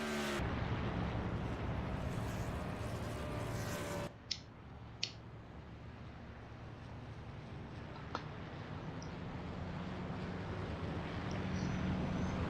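Race cars on a Las Vegas track under green flag racing, a steady broad engine roar throughout with a brief dip and a few sharp clicks partway, no talk.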